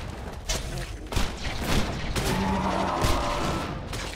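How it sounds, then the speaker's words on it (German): A weapon in the video game Borderlands 2 sets off a rapid string of explosion bursts, loud and close, mixed with dense game noise and gunfire for the whole stretch. "Das verursacht nämlich 10 Explosionen."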